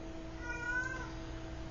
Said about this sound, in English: one of my cats is making noise